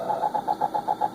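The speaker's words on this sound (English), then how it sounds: "The only thing you hear is when you turn in the engine." A car engine in the Sega Genesis racing game Lotus Turbo Challenge gives a short synthesized rhythmic putter, quick even pulses repeating about eight times in just over a second, fairly quiet with nothing else heard.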